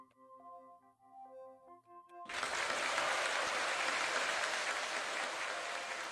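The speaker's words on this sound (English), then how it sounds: "Applause. Clap, clap, clap, clap." Soft, sparse musical tones give way after about two seconds to loud, dense applause from the Umineko visual novel game, sustained steadily to the end.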